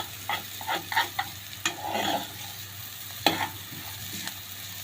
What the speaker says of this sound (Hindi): दाल को हमने इस तरह से चम्मच की मदद से अच्छे तरीके से इसको हिलाते रहना है ताकि ये नीचे ना लगे।